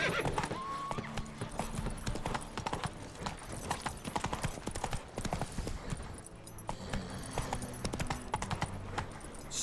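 Horse hooves clop rapidly and rhythmically in the video game The Witcher 3, a steady galloping beat close and prominent throughout the clip.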